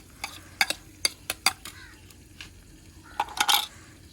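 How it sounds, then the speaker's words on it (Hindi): Green chili paste fries in a pan for dhaba-style chana dal, heard as scattered spoon clinks and scraping taps against the pan over a faint sizzle, with a busier cluster of clatter near the end and no talk. "इसको थोड़ा सा भून लेंगे।"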